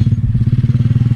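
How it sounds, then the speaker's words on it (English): A motorcycle engine idles or rumbles close by with a fast, regular throbbing pulse, loud and alone for about a second. "Now I'm sure you can hear that motorcycle in the background"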